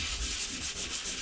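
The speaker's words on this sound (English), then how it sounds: "so we'll just keep sanding it" Steady hand sanding of plaster filler on a plasterboard wall, a dry rhythmic scraping of abrasive paper back and forth over a hard surface, close and continuous with no voices.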